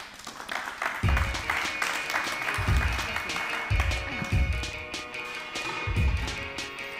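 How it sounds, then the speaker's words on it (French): At an evening car club meeting, the audience applauds with steady clapping while background music with deep thumping beats plays underneath, and some voices can be heard. "On applaudit Christophe."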